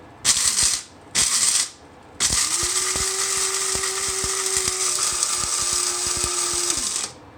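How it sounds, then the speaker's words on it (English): Home-roasted coffee beans are ground in an electric grinder: two short whirring bursts, then a longer sustained grinding run with a steady motor hum and rattling beans, close and loud, with no talking. "if you want a finer grind, keep going"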